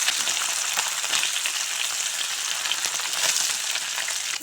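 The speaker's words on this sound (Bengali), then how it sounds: "এভাবে উল্টে পাল্টে মাছ ভেজে নেব" Small mourola fish crackle in hot oil as they are turned over, a close, steady frying sizzle with scattered sharper pops and spatters throughout, no speech.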